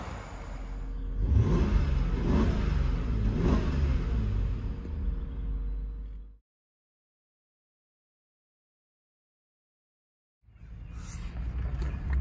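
Supercharged Jaguar XJR engine revving and pulling away for a drive, a loud sustained rumble rising and falling for several seconds, then cutting to silence before resuming.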